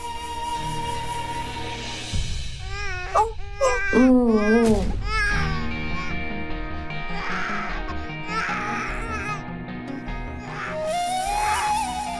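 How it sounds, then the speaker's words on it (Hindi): An infant cries in a Hindi TV serial scene, with wailing cries rising and falling over background music and dramatic sound effects. Adult voices speak around it at moderate loudness. "ये तो विनायक की रोने की आवाज है।"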